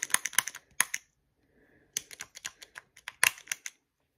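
A pump on a glass makeup bottle clicks in sharp, close, dry bursts, several rapid clicks, a brief pause, then another quick run of clicking with no voices.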